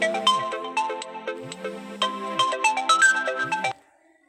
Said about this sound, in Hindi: थोड़ा फ़ोन आ गया था, ये आवाज़ पहुंच गई होगी